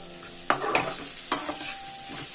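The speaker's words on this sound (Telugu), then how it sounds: "పచ్చి వాసన పోయేంత వరకు వేపుకోవాలి" Ridge gourd peels being fried in a pan, with a soft continuous sizzle and a few sharp scraping stirs of a spatula, close and fairly quiet.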